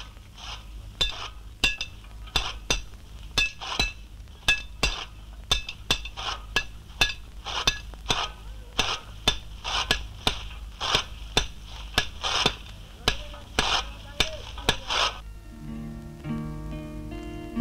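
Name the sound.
children hammering heavy iron in a blacksmith's shop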